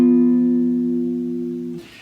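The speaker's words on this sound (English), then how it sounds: "And a diminished chord sounds like this." Diminished chord strummed once on a three-string cigar box guitar, ringing alone and slowly decaying for nearly two seconds before a soft noisy handling sound at the end.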